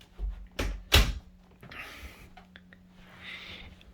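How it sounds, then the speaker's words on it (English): An indoor door is pushed shut with a couple of close thuds and a latch click, followed by faint rustling and quiet room noise. "I'm going to shut my door."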